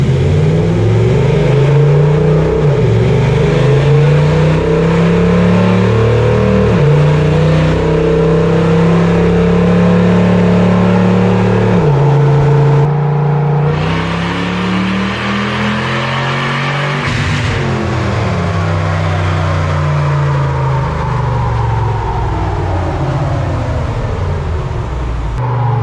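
A supercharged Toyota off-road truck with paddle shifters accelerates hard, its engine revving up through repeated rising sweeps between gear changes, loud and close throughout with a whining, strained note.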